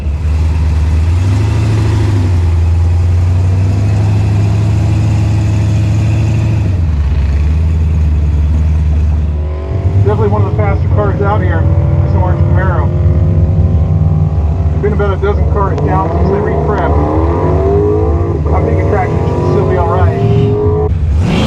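A blower and nitrous Camaro drag car roars at full throttle down the strip, its engine note building continuously and loud from start to finish, with rising gear pulls and overlapping engine noise, people talking faintly underneath.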